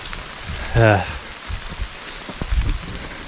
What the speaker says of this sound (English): Take it off, less than a half mile later it starts raining.